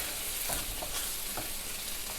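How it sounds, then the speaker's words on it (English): A pan of pasta and sauce for pasta alla Norma simmers with a soft, continuous bubbling sizzle, faint and steady, with occasional small pops and no talking. "Now I'm just going to let this simmer until the pasta is done."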